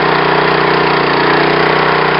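Niftylift TM34 boom lift engine running at a steady idle after starting, a close, loud, continuous mid-pitched rumble with an even vibrating throb and no speech.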